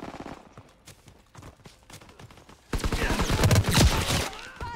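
Gunfire from Call of Duty: WWII, multiplayer PC open beta: a burst of rapid close shots, loud and dense, erupts in the second half after quieter scattered game sounds and a faint voice.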